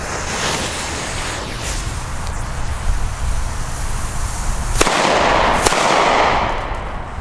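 A P1 Blitzknall or black-powder Böller firecracker goes off outdoors, with two sharp, loud bangs about a second apart and a short echoing tail, over steady windy rushing noise.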